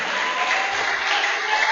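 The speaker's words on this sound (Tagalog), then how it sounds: "Pinapalakpakan, malakas yung palakpak." Loud, dense applause from a church congregation, a continuous wash of clapping with no pauses.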